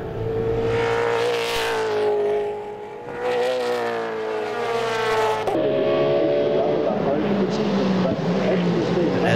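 V8 Supercar racing cars in a WA Sporting Car Club 100k Plate race climb through turn four, engines droning loud and steady with rising revs and a shift, all under continuous race commentary.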